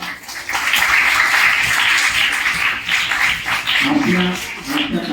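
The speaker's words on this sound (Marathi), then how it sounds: "मी आपल्या सर्वांना विनंती करतो की त्यांचं टाळ्या वाजवून त्यांचं हार्दिक स्वागत करा" An audience at a high school Marathi language week event claps steadily to welcome the chief guest, a loud, dense applause lasting several seconds with a brief voice near the end.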